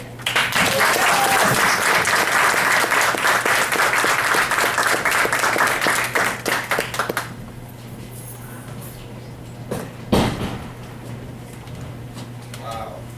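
Audience applause for speaker Derek Grant at the 10th Annual Healthy For The Holidays event, a loud sustained room-filling clapping that fades after about seven seconds into quiet room tone with a few stray sounds.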